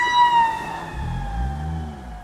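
An emergency vehicle siren wails loudly and steadily from inside a moving Miata, with low engine and road rumble swelling underneath as the car drives on.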